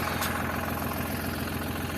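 A tractor engine idles steadily at close range, with a dense, even rumble and no break over the short stretch.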